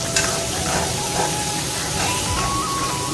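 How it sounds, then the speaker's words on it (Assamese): Chicken curry spices fry in hot oil under constant stirring, producing a dense, close sizzle and hiss. Soft scraping of the spoon runs through it without pause. "মছলাখিনি দি এতিয়া মই লৰাই থাকিম ভাজি থাকিম"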